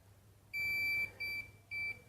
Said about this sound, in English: It will beep if it doesn't have contact.